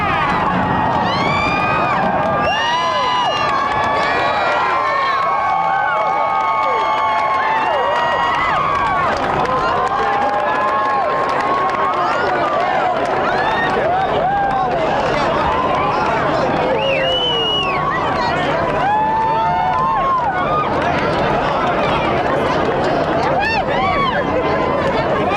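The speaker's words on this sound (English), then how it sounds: "Let's take a listen to what the crowd was saying at the time that building went down." Huge crowd watching the 1998 implosion of the Aladdin hotel in Las Vegas, a dense wall of cheering, shouting and excited chatter from thousands of spectators that stays loud and steady throughout.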